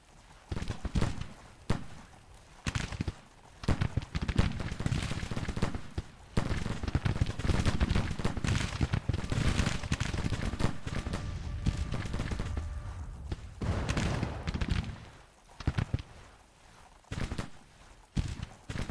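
Federal troops fire rifles in a battle game, ragged volleys and scattered crackling shots rolling close and loud in repeated bursts, with brief lulls between and a dense sustained stretch of fire.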